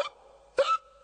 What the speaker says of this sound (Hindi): सर को हिचकी की बीमारी हो गई है।